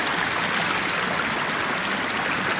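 Water of the Riacho do Lagedo, a stream in the sertão backcountry, rushes and gurgles in a steady, full, close wash with no voices over it.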